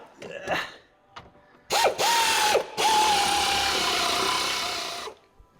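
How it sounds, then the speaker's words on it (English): A power tool drives and tightens the seat bolts on a Smokey and the Bandit tribute truck, giving short whirring bursts followed by one long steady spin, close and loud, with faint sounds before it. "now we can get those bolts in there and tighten her all down"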